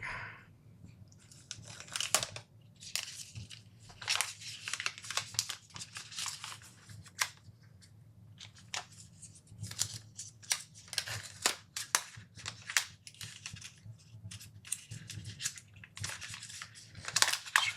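Packaging of an ACEMAGIC Matrix Mini M5 mini PC being opened, a close, quiet stream of irregular crinkling, tearing and rustling bursts over a low steady background hum, with no talking.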